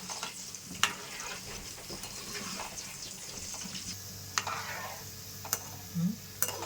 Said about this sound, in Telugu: సిమ్లో పెట్టి ఇలా కదిలించుకుంటూ వేయించుకోవాలి మీడియం ఫ్లేమ్లో.